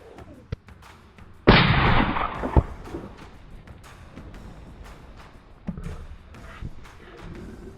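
A single loud rifle shot at a game animal on an African safari cracks out sharply, followed by a rolling echo that fades over about a second; faint movement and quiet background sounds follow.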